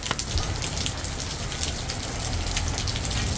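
Heavy rain at night during a vehicle journey up a mountain range near Santa María toward Cusco, a dense, continuous roar of rain on the vehicle with a constant rumble underneath.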